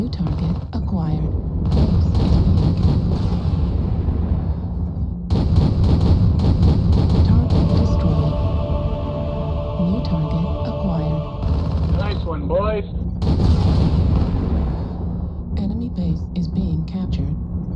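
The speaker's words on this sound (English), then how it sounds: "Artillery strike online." Artillery strike explosions in the mech combat game MechWarrior Online: repeated heavy booms and rumbling blasts in bursts over most of the span, loud and dense, with radio chatter and synthetic announcer voices talking over them.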